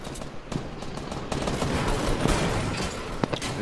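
Rapid gunfire in a video game with a shotgun, sharp shots cracking over and over in a busy, loud barrage without pause.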